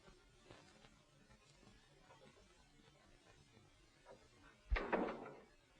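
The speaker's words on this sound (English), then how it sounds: "Hadn't you better close the door?" A door closes with a single firm thud near the end, after several seconds of quiet room tone in a 1947 film scene.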